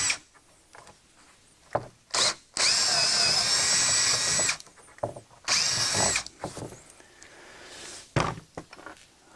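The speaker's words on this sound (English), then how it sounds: "And now I'm just going to drill right through." Power drill fitted with a 1/4-inch bit boring through wood in a garage workbench build, whining loudly in two sustained bursts of a few seconds each, separated by short clunks and handling knocks.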